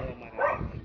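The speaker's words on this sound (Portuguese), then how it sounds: "Os cachorros latindo" Several dogs bark in a short burst, close and fairly loud, with a slightly muffled, yappy character and some background room noise.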